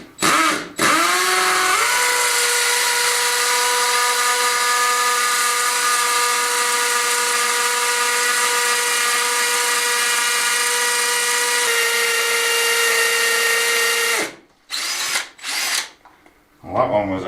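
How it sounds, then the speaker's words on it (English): A power drill bores into a masonry wall of mortar or marble during a bespoke farmhouse kitchen build: one loud, steady, high whine held for about thirteen seconds, then a few short bursts after it cuts off. "Might even need a bigger drill if we hit marble."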